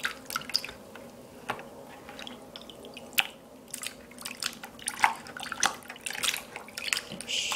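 Wet paper being shredded by hand in a basin of warm water, giving soft irregular squelches, drips and small splashes at close range with no talking.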